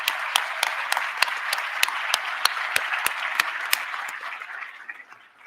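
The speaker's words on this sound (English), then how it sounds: "give yourselves a round of applause right" An award-ceremony audience at a state history contest breaks into applause, with a few sharp, evenly spaced claps standing out above the dense patter before it thins and fades away.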